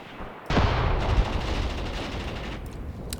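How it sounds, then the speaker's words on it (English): Enemy guns fire in Graviteam Tactics, a sudden loud burst of gunfire that settles into a dense, rolling fusillade of distant shots and booms. "Damn, the enemy guns are shooting and hitting units all the way back there."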